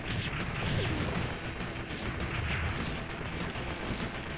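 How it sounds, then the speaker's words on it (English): Explosions and gunfire from the run-and-gun video game Blazing Chrome, a dense, continuous barrage of booms and blasts that stays loud for the whole stretch with no pauses. "Oh no, there's a bomb."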